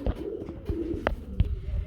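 A pair of white Danish pigeons coo softly nearby in low, throaty bursts, with a few faint knocks and rustles between the calls.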